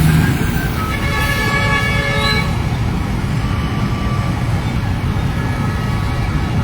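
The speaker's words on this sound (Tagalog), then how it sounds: "Ayan, nandito na rin isa pang tanker ng Quezon City BFP." A Quezon City fire department tanker truck pulls in with a couple of horn toots near the start, then a loud, steady engine rumble with road noise continues throughout.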